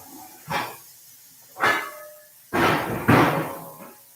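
Two hamburger patties sizzle in a too-small skillet, the hiss swelling in four separate bursts, the last two longer and louder, with quiet gaps between.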